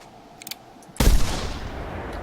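A single hunting rifle shot rings out in theHunter Classic, one sharp loud crack followed by a lingering rumbling echo that fades slowly, after a few faint clicks beforehand.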